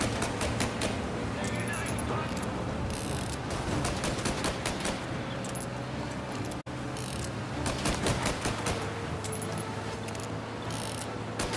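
Rapid gunfire in Mafia: Definitive Edition during a car chase: dense bursts of sharp cracks run almost nonstop, with a brief gap midway, over a steady rumble of engine and road noise.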